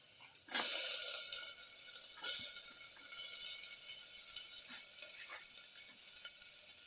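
Shallots sizzle in a hot pan for a lamb and cauliflower stew, a steady frying hiss that flares up loudly at the start when they hit the oil, then settles into a constant crackle with occasional small pops.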